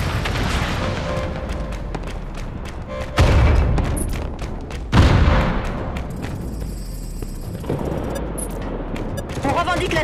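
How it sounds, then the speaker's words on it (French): Allied missile strike explosions in the Modern Combat Versus mobile shooter game land as two heavy booms a couple of seconds apart, amid ongoing gunfire and game sound effects. "Frappe de missile allié en approche."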